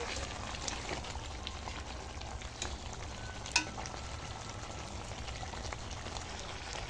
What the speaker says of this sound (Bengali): এবার একটু অল্প করে জল দেব, একটু জল দিয়ে আর একটু ভালো করে সিদ্ধ করে নেব।